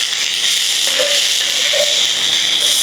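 Onions and bitter gourd fry in a pan with a steady, fairly loud hiss that stays constant throughout, and no one talks.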